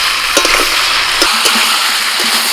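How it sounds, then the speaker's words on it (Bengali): Chicken pieces stir-fried with onions in a hot pan give a steady, bright sizzle, with a few soft clacks of the spatua moving the meat around; no voices. "এইভাবে পেঁয়াজের সঙ্গে চিকেনটাকে মোটামুটি পাঁচ মিনিট মতো নাড়াচাড়া করে নিতে হবে"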